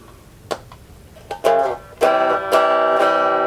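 Clean electric guitar tones ring out through a cheap small amp in clean mode, a few plucked notes and then sustained strummed chords, bright and fairly loud with no distortion.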